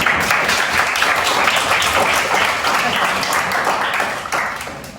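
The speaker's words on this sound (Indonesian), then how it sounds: "Oke, bagus sekali, berikan aplaus" An audience in a classroom applauds, producing a loud, dense burst of clapping that holds steady for several seconds and then begins to fade toward the end.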